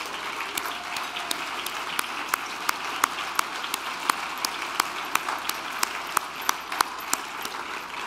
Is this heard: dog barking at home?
no